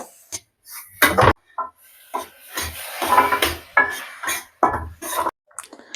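Semolina laddu mixture with milk powder being mixed by hand in a bowl, producing close, intermittent scraping and rubbing bursts with short knocks and pauses between strokes, no talking.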